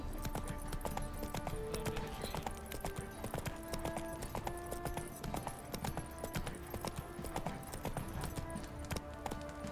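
A horse gallops in The Witcher 3: Wild Hunt, a fast steady clip-clop of hooves running continuously at close range with game ambience and faint in-game tones around it.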